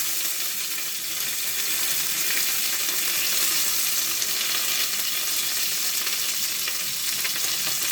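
Mustard seeds, green chilli, onion and curry leaves fry in hot oil with a steady, dense sizzle and crackle that holds at an even level throughout, with no voices.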